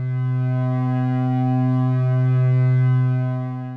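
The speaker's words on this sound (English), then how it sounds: "I'm going to hold my drone again and start increasing its depth." A held synth drone run through a Synthrotek Verb modulated resonator, a steady loud buzzing tone with a subtle wavering shimmer that swells slightly before easing off.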